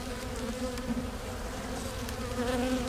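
Honey bees buzz around an open hive of a struggling fledgling nuc colony, a dense continuous drone close by with individual bees swelling louder as they pass.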